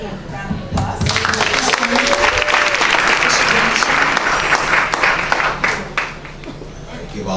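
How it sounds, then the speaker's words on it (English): Loud audience applause at an awards reception after a bishop is introduced, dense sustained clapping with a few voices and cheers mixed in before it tapers off. "A round of applause"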